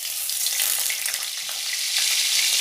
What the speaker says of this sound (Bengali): তেলটা গরম হয়ে গেছে, ওতে দিয়ে দেব একটা শুকনো লঙ্কা